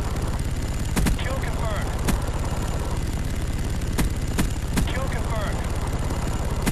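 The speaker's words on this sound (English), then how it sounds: "I'm calling in my chopper gunner now" A chopper gunner helicopter killstreak in a video game keeps up a constant rotor thrum while sharp gunfire bursts crack out repeatedly at intervals, loud and close throughout.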